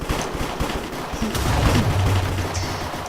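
Rapid bursts of gunfire in a Minecraft cops-and-robbers shootout, loud and dense throughout with a low rumbling boom near the middle.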